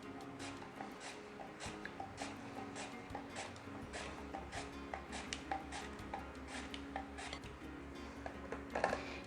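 Potatoes being sliced into thin chips with a knife, a steady series of short close cutting taps and clicks over a low continuous background hum.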